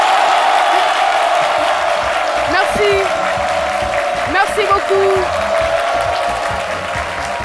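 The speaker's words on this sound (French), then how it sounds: "Applaudissements publics." A studio audience on a live midday television show claps and cheers steadily, with occasional whoops rising from the crowd while a presenter speaks thanks over the noise.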